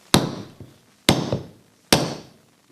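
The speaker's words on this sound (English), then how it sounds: "take a soft hammer and just gently" A soft hammer gently knocks the axle out of a rear Pro2 bicycle hub set on a support: three spaced, close, dull thuds, each followed by a faint rebound tap.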